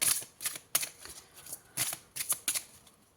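Tarot cards being shuffled and handled up close, a series of crisp riffling and flicking bursts in an uneven rhythm, fairly quiet.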